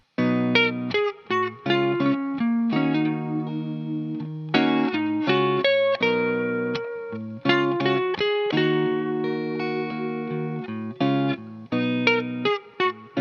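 Electric guitar plays a riff from a song together with its chords, a clean, rhythmic part with short stabbing notes and sustained chord tones, steady and close, no voices.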